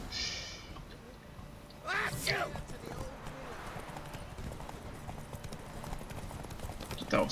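Horse hooves clip-clop steadily in The Witcher 3, a quick rhythmic trot close by, with a brief whinny-like cry and game voices speaking over the hoofbeats.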